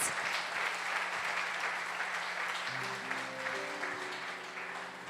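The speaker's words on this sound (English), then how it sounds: "Let's give a round of applause for Dr. Chris, for everybody that has participated in this service." An audience at a service gives a round of applause, dense steady clapping that fills the whole clip and tapers slightly toward the end, with a sustained musical tone entering partway through.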